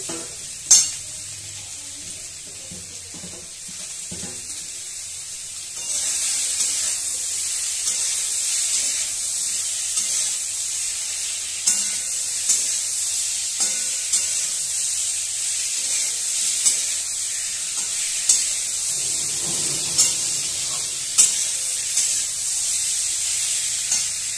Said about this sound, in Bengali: আবারও ভালো করে ভেজে দিচ্ছি।